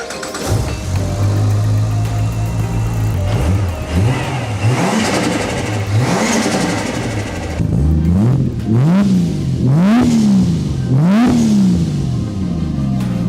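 A Ford XR6 ute engine on a cold morning cranks and catches, then settles into a rough idle before a series of sharp, rising revs, each blip climbing and falling back, loud and close.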